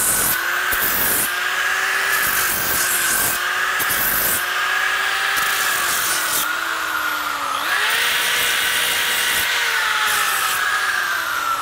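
Continuous power sanding on the front of a wooden box, a loud steady whine with shifting pitch and short interruptions, running alone without talk.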